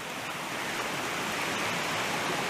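Lands Run, a stream in Shenandoah National Park near Pomeroy and Wines Orchard, rushes steadily and close by as a broad, even wash of flowing water with no talk over it.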